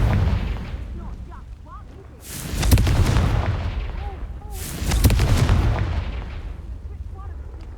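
Two heavy blasts from the Confringo fire spell in Hogwarts Legacy, each a loud booming burst with crackling fire that swells and lingers, spaced a few seconds apart over a low game ambience with faint birdsong.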